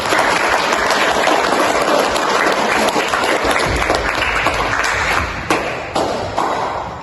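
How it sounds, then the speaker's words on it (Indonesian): Applause from a school audience after a song in a student stage play about the Youth Pledge, dense, loud and continuous throughout, thinning slightly near the end. "Sekali lagi, berikan tepuk tangan kepada beliau."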